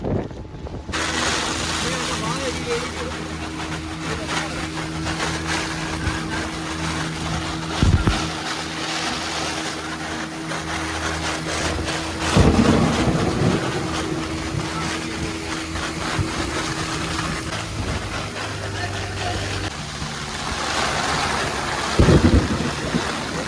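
A steady, loud roar of wind and rain at sea fills the whole stretch aboard a deep-sea fishing boat, with waves and the boat's low rumble underneath and occasional harder gusts.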